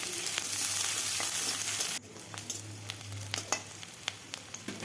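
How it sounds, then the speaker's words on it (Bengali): Whole cumin, green chili and onion sizzle loudly in hot oil in a pan for a Bengali fish curry. A dense, hissing fry fills the first two seconds, then it settles into a quieter bubbling with scattered sharp crackles and pops. "কাঁচা লঙ্কা, পেঁয়াজ, ফোড়নটা ভালোভাবে আমি ভেজে নেব"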